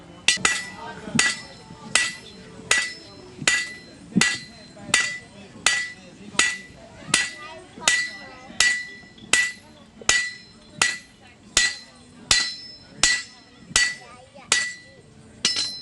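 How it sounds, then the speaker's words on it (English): Steady, ringing blows of a 4-pound hammer strike metal on an anvil at a Renaissance faire blacksmith demonstration, about one per second, loud and close, with a bright metallic clang on each hit. "We're going to move up to a 4-pound hammer to get a little extra boom."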